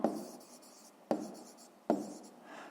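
A pen writes on paper in three short bursts of scratchy strokes, close and fairly quiet, each burst starting sharply and trailing off, with no talking.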